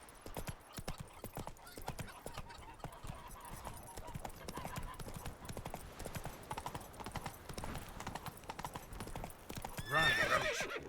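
Roach the horse galloping in The Witcher 3, rapid rhythmic hoofbeats close by and continuous, ending with a loud whinny near the close.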